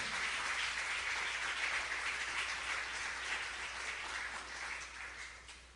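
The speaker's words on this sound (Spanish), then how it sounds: "Dale un fuerte aplauso a Él." A church congregation gives a loud, sustained round of applause, a thick even roar of many hands that tapers off slightly toward the end, with no voices over it.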